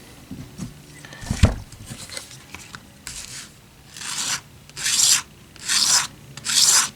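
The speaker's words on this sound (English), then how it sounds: "Then I can scrape it." A small hand scraper rasps across an acoustic guitar pickguard. Light scratches come first, then five loud rhythmic strokes, each a rough close-up scrape separated by short pauses.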